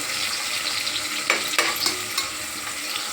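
Masala fries in a pan with a steady close crackling sizzle, punctuated by a few sharp scrapes of stirring, heard without talk.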